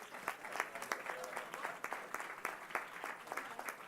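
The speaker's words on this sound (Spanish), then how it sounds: "Un aplauso, por favor" Applause for political journalist and analyst Leonardo Curcio at a formal event, a fairly faint ripple of hand claps with irregular sharper claps standing out, continuing steadily throughout.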